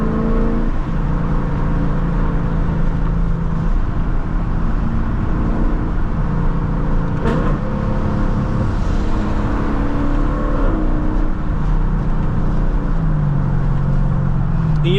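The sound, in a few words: Lexus LC 500 car driving with windows down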